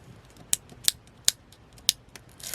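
Scissors snip through vellum paper during a paper-craft project making sleeves and pockets, with four sharp, close cuts spaced irregularly and a brief rustle of paper at the end, no talking.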